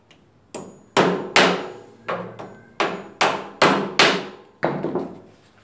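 Hammer strikes driving a nail into wooden pieces for a vertical shelf, about ten sharp, loud blows in an uneven rhythm, each with a short ringing decay, close up with no talk.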